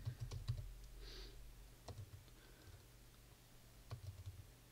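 Quiet clicks of a computer keyboard while typing out code in Xcode, a few scattered keystrokes with soft bursts near the start, middle and end over a low steady background hum.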